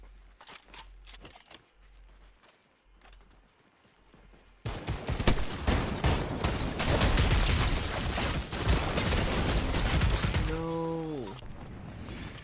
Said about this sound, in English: They're on top of the mountain sniping.